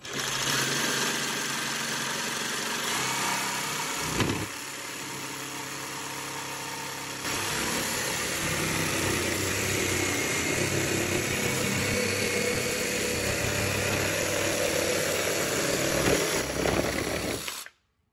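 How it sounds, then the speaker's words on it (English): A jigsaw cutting through a sheet of plywood for building dog flyball jumps, a loud continuous buzzing cut lasting about seventeen seconds with brief shifts in tone, then stopping abruptly. "So you're just going to line up your saw blade on your line and start cutting."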